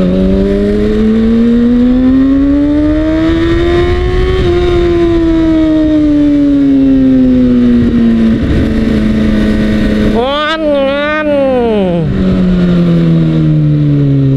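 A Kawasaki Ninja ZX-6R motorcycle engine roars close and loud, its pitch climbing under acceleration, easing off, then whining through quick revs and a gear change before settling into a steady drone.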